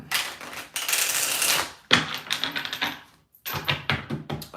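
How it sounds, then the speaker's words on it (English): Tarot cards being shuffled come in loud, close bursts of rapid riffling and flapping, separated by short pauses, with no talk. "Sorry, guys, about the shuffling."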